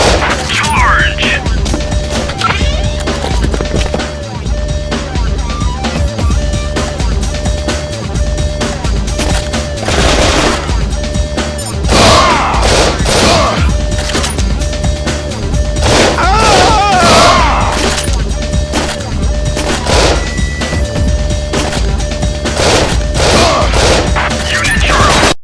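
A police-versus-bandit shootout plays out in the Ghost Squad arcade shooter. Rapid volleys of gunfire mix with booms and crashes in loud, dense bursts that continue throughout, with game voices in places.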